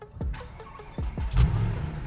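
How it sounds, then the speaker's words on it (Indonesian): A Mercedes-Benz E63 AMG with a V8 turns over and fires through several short cranking bursts, then catches into a low, close rumbling idle. "Kita nyalain dulu mesinnya ya, engine start-stop sini."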